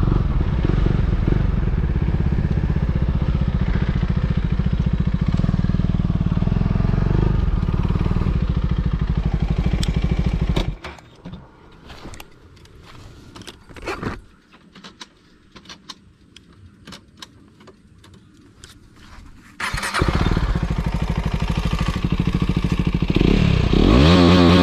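A KTM Duke 250 BS6 motorcycle with its exhaust dB killer removed revs loudly and close by, steady droning bursts at the start and end with a quieter idling, clattering stretch in between.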